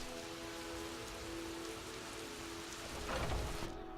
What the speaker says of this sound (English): I probably shouldn't wait in the rain